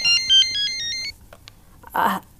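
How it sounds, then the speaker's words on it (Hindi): A mobile phone ringtone plays a bright, repeating electronic melody for about a second in a talk-show studio, then stops; a short burst of a voice follows. "ये फ़ोन बज रहा है आपका"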